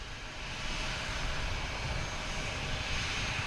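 A JetBlue airliner in mint chocolate chip livery passes with a steady jet engine roar, moderately distant and gradually building, hissy highs over a low rumble, no voices.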